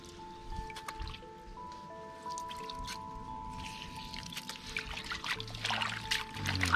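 Raw goat meat being washed with orange and water, giving wet squishing, dripping and trickling sounds up close, fairly quiet, with a faint steady tone in the background.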